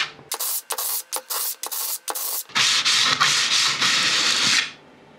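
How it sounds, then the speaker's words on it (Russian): A metal plate is rubbed back and forth on sandpaper in short, loud, close strokes, then ground in one continuous stretch that trails off. "Немного подровняю на наждачном папирусе."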